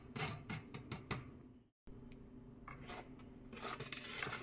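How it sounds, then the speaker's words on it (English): A spoon scrapes and pushes dry pancake ingredients through a metal sifter, making a series of close, gritty rubbing strokes broken by one brief silent gap. "you can use a spoon to gently push them through"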